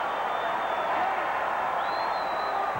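Roar of a large stadium crowd doing the wave inside the Houston Astrodome during a 1987 Braves–Astros baseball game, a steady, loud, dense wash of cheering voices with rising whistles, constant throughout.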